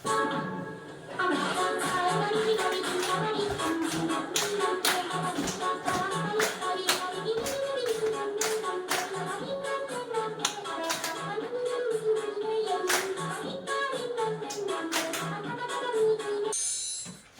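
A classroom of students stands and does the penguin clapping ice-breaker, with quick rhythmic claps and pats in a steady patterned beat and voices chanting along throughout.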